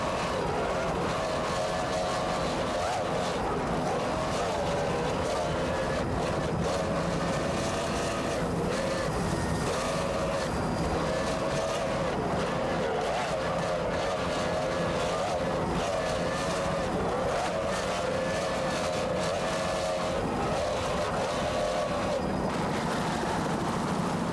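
Offshore powerboats race across bumpy water at the 1994 South Padre Island Grand Prix, a C-Class boat among them, their engines giving a continuous, dense roar with a wavering pitch that holds steady at moderate loudness throughout.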